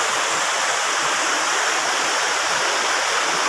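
A waterfall reached on a hike across a stream roars as a dense, unbroken rush of water, loud and close, with no voices over it.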